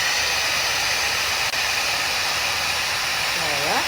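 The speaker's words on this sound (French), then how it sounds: "En fait, c'est une brosse qui chauffe." A heated hair styling brush blows hot air in a continuous loud, close hiss that holds steady for the whole stretch, with a faint warble near the end.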